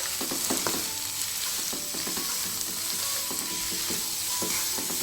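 Zucchini pasta is mixed with a fork in a non-stick pan, giving soft scraping and tapping over a steady sizzle that lasts throughout, close and moderately quiet.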